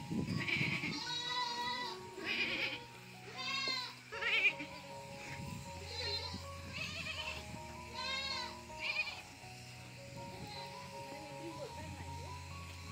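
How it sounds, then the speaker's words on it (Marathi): Several goats bleating close by on a village farm, repeated wavering cries coming in short bursts, with people talking softly between and under them. "हंबा नाही बाळा आता आता ह्या शेळ्या आल्यात"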